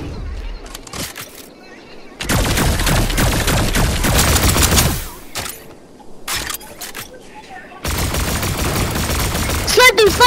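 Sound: gunfire and sniper shots in Call of Duty video game

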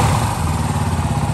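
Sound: Yamaha WR250R motorcycle engine running

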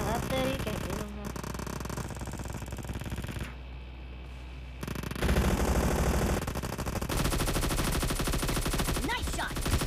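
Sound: gunfire in PUBG Mobile video game

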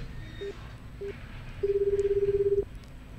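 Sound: telephone dialing to place a call

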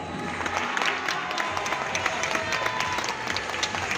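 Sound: audience applause at magic festival

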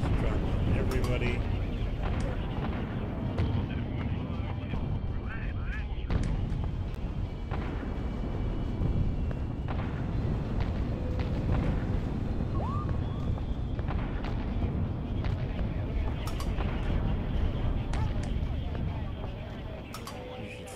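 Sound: explosives dropped on zombies in video game Atom Zombie Smasher

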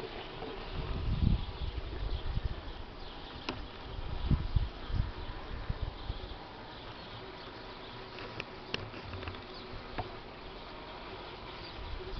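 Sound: honeybees buzzing

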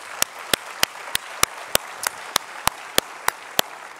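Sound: audience applause for label winners

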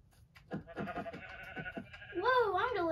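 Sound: sheep bleating in the video game Minecraft

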